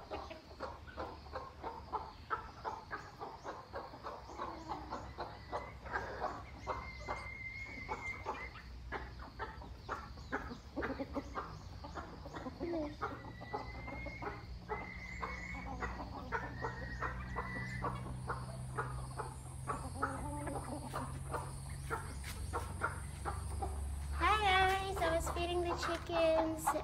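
Chickens cluck steadily throughout, with repeated short calls from several birds close by, and a brief higher squawk near the end.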